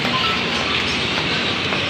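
A train at a busy railway station in Chhattisgarh on the Jharidih (Kharsia) to Bilaspur route, giving a steady, loud rumble and clatter of rail cars with no clear talk over it.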